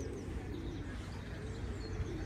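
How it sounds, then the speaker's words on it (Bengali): Pigeons coo and murmur in a park among cherry blossom trees in the UK, soft and steady beneath a broad wash of outdoor background noise, with no clear single call standing out. "আর সাথে তো আমাদের কবুতর পাখি তো আছেই।"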